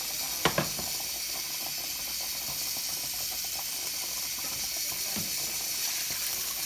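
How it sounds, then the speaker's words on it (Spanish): Cooked spaghetti drained in a colander for carbonara, water splashing and pouring steadily throughout with a few sharp clinks near the start. "Aquí tenemos los espaguetes colándolo."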